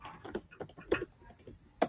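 Keys on a computer keyboard are tapped in a quick irregular run of soft clicks, close and fairly quiet, with no talk.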